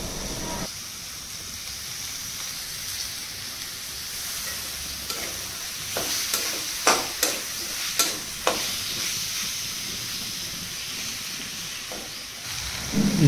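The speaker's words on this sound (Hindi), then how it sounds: "तापरे काटिकी रखिथिबा टमाटर ताकू पकेइबा।" Chopped tomatoes cooking in a pan for a prawn curry, a continuous low sizzle with a run of clinking stirring strokes in the middle.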